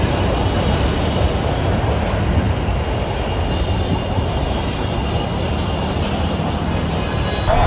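A train rolls through a railway crossing on a city street at night, a steady loud rumble of wheels and cars that stays constant throughout with no breaks.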